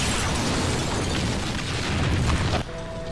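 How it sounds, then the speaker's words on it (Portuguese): A bazooka blast from a The Walking Dead episode: a loud, sustained explosive roar with crackling debris filling the whole clip, cutting off abruptly near the end to a faint ringing tone. "teve seu platô em uma explosão de bazuca ao melhor estilo Daryl"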